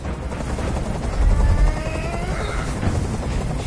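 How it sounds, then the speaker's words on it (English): A helicopter hovers overhead in the video game Detroit: Become Human, its steady rotor chop forming a loud, constant, noisy rumble throughout with a faint whine and no speech. "Tell that helicopter to get out of here."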